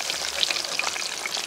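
Close, steady sizzling and crackling of Wiener schnitzel frying in hot oil in a pan on a gas grill, with scattered small pops.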